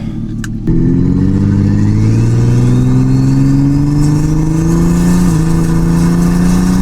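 A $1,000 minivan's engine roars under heavy throttle, a loud close drone climbing steadily in pitch as it accelerates after a brief quieter start.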